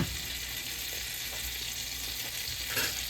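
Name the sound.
butter sizzling in cast iron skillet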